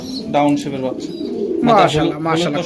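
Pigeons at a pigeon farm coo in soft, low, repeated calls, with a voice talking over them throughout.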